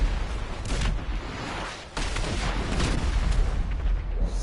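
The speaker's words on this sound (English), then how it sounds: "See how much explosions he shot while I joined the session." Explosions in the GTA 5 video game: dense, rumbling booms and blasts piling up in a continuous loud barrage, with a brief dip in the middle before the heavy detonations resume.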